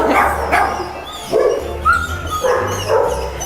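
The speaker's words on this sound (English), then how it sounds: "now we're gonna go visit the dogs, and it's gonna be really noisy" Dogs bark repeatedly at a busy dog shelter, several sharp barks and yips overlapping in a loud, reverberant kennel with no talk.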